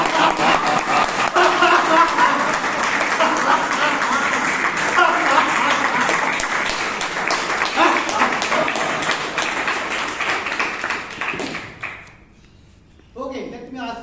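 A Toastmasters meeting audience claps hard for about ten seconds, a dense, loud roar of applause mixed with laughter and cheering voices, fading out near the end before a speaker resumes talking.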